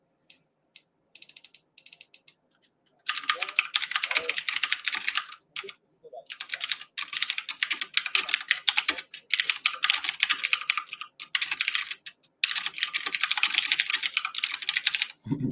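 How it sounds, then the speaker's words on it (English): Loud clicky computer keyboard typing sits right under a live-stream microphone: a few sparse taps, then long dense bursts of rapid keystrokes with short pauses between them, close and alone. "Freaking my loud-ass keyboard hanging under the mic."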